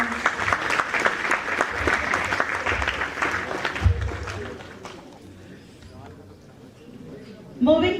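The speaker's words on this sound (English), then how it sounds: "A big round of applause." An international education conference audience applauds steadily for several seconds, and the clapping thins out and fades to a quieter room tone before a brief louder sound near the end.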